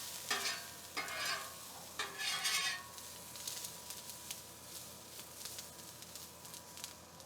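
Miracle noodles fry in an oiled pan on a griddle, crackling and sizzling close by, with a few loud stirring scrapes early on that give way to a lighter, steady popping sizzle.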